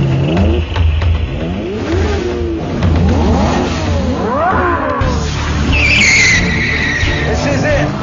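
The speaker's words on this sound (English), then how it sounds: "let's see if the 722 can keep its royal status in a race between the lights" Mercedes-Benz SLR McLaren 722 and Lamborghini Murcielago LP670-4 SV accelerating hard through Abu Dhabi streets, engines roaring and rising in pitch through repeated gear changes, with tire squeal and a loud continuous drone throughout.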